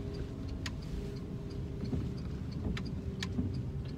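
Rhythmic ticking of a car's turn-signal indicator inside a car on a driving test route in Finglas, faint and steady over the low rumble of the engine and road noise, with a few sharper clicks in between.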